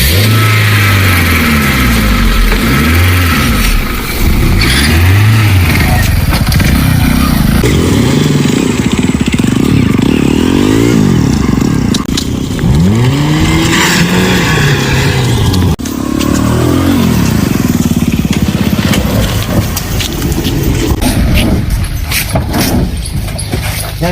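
A motorcycle engine idles and revs up repeatedly nearby, loud and rough, with rising and falling pitch as the throttle opens and closes.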